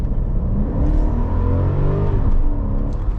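A Mercedes 500E's V8 engine revs up under hard acceleration, a deep rising and falling drone heard from inside the car, steady and fairly loud throughout.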